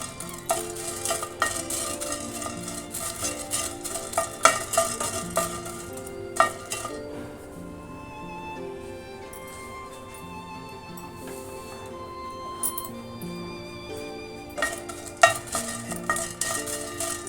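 Peppercorns and byadagi chillies dry-roast on a low flame for garlic chutney powder, with repeated scraping and rattling stirs in a pan, a quieter stretch midway, then brisk stirring again.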